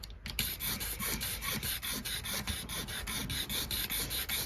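A Tokai guitar gets a light scraping in a steady run of quick, even rasping strokes, close up and fairly quiet, with no voices.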